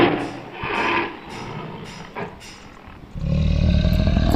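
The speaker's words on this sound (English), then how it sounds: "Tiger." A tiger roars in a long, rough, breathy burst, then after a short lull lets out a deeper, louder rumbling roar that holds steady to the end, up close with no talking.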